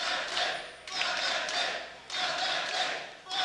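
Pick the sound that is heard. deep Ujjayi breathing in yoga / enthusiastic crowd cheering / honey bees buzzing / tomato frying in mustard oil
enthusiastic crowd cheering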